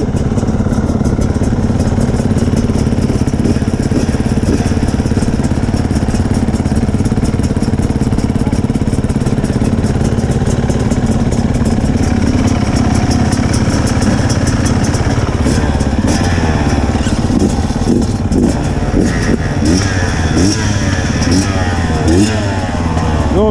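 A new 2022 Beta RR dirt bike engine, running too rich a mixture, idles unevenly and loud throughout, with a rough, sputtering idle and some clattering, while voices talk nearby.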